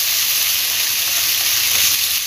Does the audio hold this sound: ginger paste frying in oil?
yes